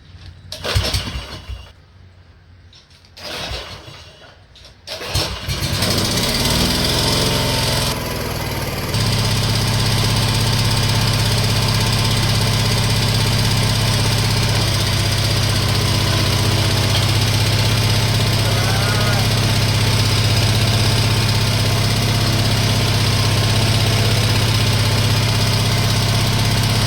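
An Exmark lawn mower engine, previously locked up, rumbles steadily at idle, loud and close, after a few seconds of quieter mechanical handling noise at the start.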